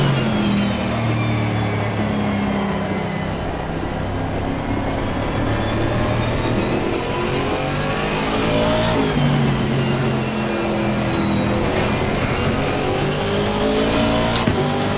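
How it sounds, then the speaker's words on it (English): A 2019 Aston Martin race car engine roars continuously at Spa-Francorchamps in rainy conditions in Assetto Corsa Competizione, loud and sustained, with rising and falling revs through gear changes and a dense wash of road and rain noise. "you can just hear and admire the beautiful sound of that Aston"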